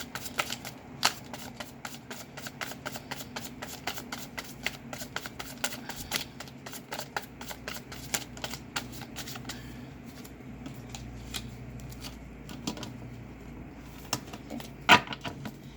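Tarot cards being shuffled by hand, a close, continuous riffling and flicking with sharp snaps throughout and a slight rustle, steady and fairly soft, with no talk over it.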